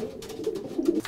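Racing pigeons coo in a loft in Amsterdam, soft low throaty calls repeating close by and growing fuller toward the end, with a faint rustle around them.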